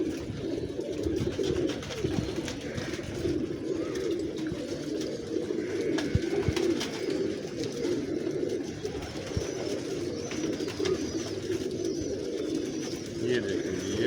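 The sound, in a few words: pigeons cooing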